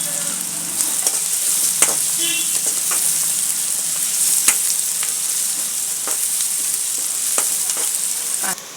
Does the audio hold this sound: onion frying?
yes